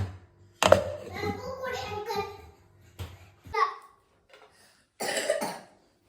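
A single sharp cough near the start, followed by bursts of a voice speaking and a brief adult remark.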